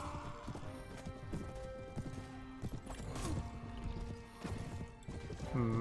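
Armoured horses charge across a Mount and Blade Warband battlefield, rapid hoofbeats clattering alongside clashing impacts, whinnies and battle noise, busy and fairly loud throughout.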